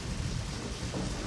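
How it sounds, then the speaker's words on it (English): Steady rain in the game Deadly Premonition hisses continuously with a low rumble of thunder underneath, a dense, even wash of sound with no voices. "why is it raining?"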